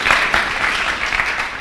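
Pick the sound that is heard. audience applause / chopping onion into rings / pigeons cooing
audience applause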